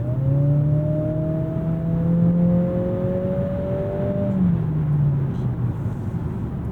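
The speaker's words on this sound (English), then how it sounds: "for engine sound, we're gonna go into sport to give you what that sounds like" Engine of a 2025 Acura ADX A-Spec Advance in sport mode, a steady droning hum heard from inside, rising slightly in pitch and then easing off, with a buzzy tone under a constant road rumble.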